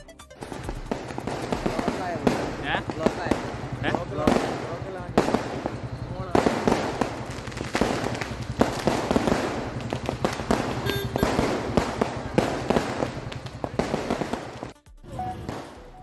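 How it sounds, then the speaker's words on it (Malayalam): Firecrackers laid out on a road and lit by a wedding party in Nadapuram, Kozhikode, crackling in rapid, dense bursts for about fifteen seconds, loud and close, with voices mixed in. "ഒരു കൂട്ടം യുവാക്കൾ അപകടം ഉണ്ടാക്കുന്ന രീതിയിൽ റോഡിൽ പടക്കങ്ങൾ നിരത്തി തീ കൊളുത്തുകയായിരുന്നു"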